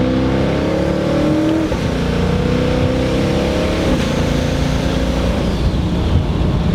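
Twin-turbocharged 1200 HP Shelby GT500 pulling from second gear, a steady loud engine drone with rising turbo whine and gear-change dips around two and four seconds, no voices.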